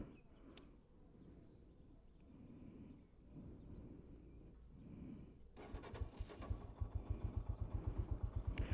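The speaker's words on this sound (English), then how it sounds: "So now I'll make you hear the exhaust sound" Royal Enfield Himalayan adventure motorcycle idling, its single-cylinder exhaust quiet at first amid faint background noise, then a close, loud, steady thumping beat as the engine is revved.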